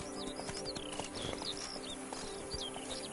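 The horse Roach trots in a PS4 video game, its hooves giving a quick, faint, steady clip-clop rhythm under ambient game sound, with chirpy high calls in the background.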